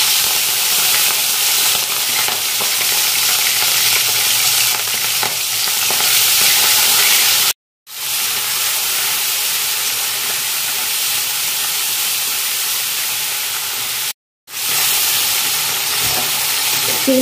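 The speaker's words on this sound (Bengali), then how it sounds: "আমি এর মধ্যে এবার চিংড়ি মাছটা দিয়ে দেব।" Small prawns hit a hot pan of oil spiced with whole-spice tempering for water-lily stems with prawns, giving a loud, continuous close sizzle with stirring, broken by two brief silent cuts.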